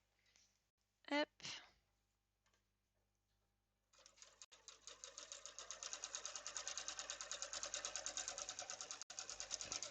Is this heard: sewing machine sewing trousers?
yes